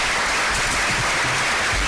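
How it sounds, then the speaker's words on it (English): Audience applause for presenters at a fintech small-business loan panel, dense continuous clapping throughout, fairly loud and even. "let's give a round of applause to our great presenters today"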